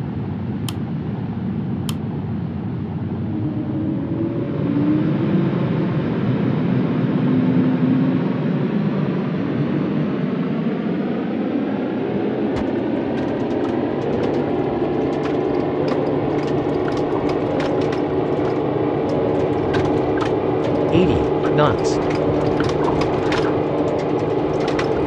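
An Embraer E190-E2 jet takes off in the RFS Real Flight Simulator game. The engines hold a loud steady roar that swells and rises in pitch as the aircraft accelerates down the runway, with rattling clicks during the roll.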